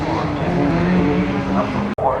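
Jimmy McRae's Ford Escort rally car on a special stage of the McRae Rally Challenge, its engine droning loud and steady at close range with a brief cut near the end, while a commentator talks over it.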